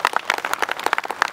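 A short burst of audience clapping at a talk by a concrete company, a few separate hand claps rising and falling quickly rather than a full sustained ovation.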